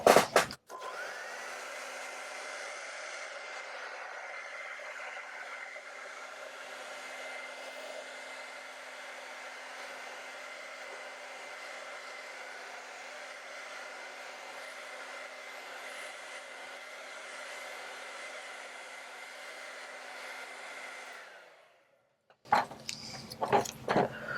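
A hair dryer blows steadily on wet acrylic paint for about twenty seconds, a loud, even, close whir that cuts off abruptly, followed by brief handling clatter.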